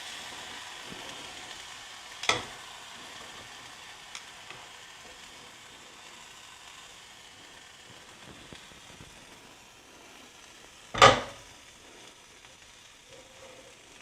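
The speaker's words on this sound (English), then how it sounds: "I'll gather my kraut over to one side of my pan and squeeze out as much juice as possible" Sauerkraut sizzling in a pan as it is pushed to one side and pressed to squeeze out its juice, a soft steady crackle throughout with two sharper bursts of hissing.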